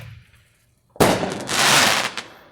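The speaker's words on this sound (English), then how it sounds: "Okay, I am getting some great fireworks this year." Fourth of July fireworks burst after a near-silent pause, one sharp loud blast followed by a rolling crackle of popping and fizzing charges that fades out.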